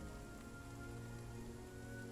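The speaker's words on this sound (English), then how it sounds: "Misty, rainy." Steady rain falls on the surfaces of a misty highland forest, a dense, even patter with no pauses, soft and close.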